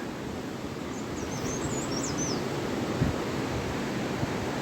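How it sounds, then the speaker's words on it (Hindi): River water flowing in the hills on a morning walk along the Mori to Hanol road in Uttarkashi, Uttarakhand: a steady, even broadband rush with distant bird chirps, no talk. "इको सुनाई देती है नदी के बहते हुए पानी की"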